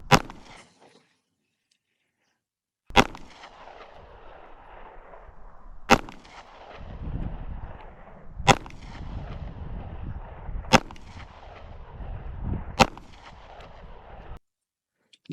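A Canik MC9 pistol fires six sharp, loud shots outdoors at uneven intervals of a few seconds, each followed by a ringing outdoor echo.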